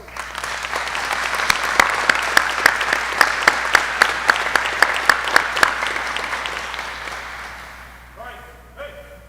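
Audience applauding graduating U.S. Army Aviation soldiers receiving their wings at a ceremony, a sustained round of clapping with some sharper individual claps, tapering off before brief voices at the end.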